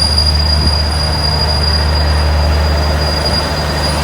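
Alsthom 4130 locomotive hauling Express Train 86 at Ban Pong station, giving a steady, loud engine rumble and hum with thin, high, sustained wheel-squeal tones throughout.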